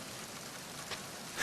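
Rain in Metal Gear Solid 2 falls as a soft, even hiss of drops on a surface, faint and steady, with no voices over it.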